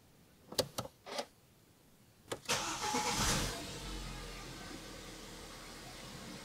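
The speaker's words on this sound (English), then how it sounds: "Now let's start the engine." A BMW car with the N43 engine, which has a low oil pressure fault, cranks briefly with a few sharp clicks and turns over, then catches and settles into a steady, fairly quiet idle, heard close up with no talking.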